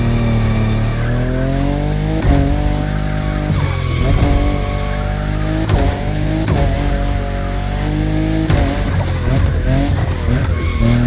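A fifth-generation Toyota Supra races in The Crew Motorfest, its engine loud and close, revving up and down through repeated gear shifts with tire squeal and skidding in the corners.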